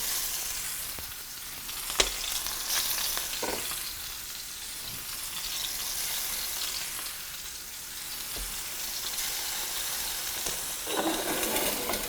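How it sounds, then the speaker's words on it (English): Prosciutto-wrapped scallops on rosemary skewers sizzle steadily in a hot pan over a wood fire, a constant crackling hiss with occasional sharper pops. "And that is what you want to hear, that sizzle."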